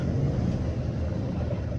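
A car rolls off a ro-ro ferry onto the jetty on the Jalsar–Virar crossing, a short, steady low engine rumble mixed with wind and boat noise.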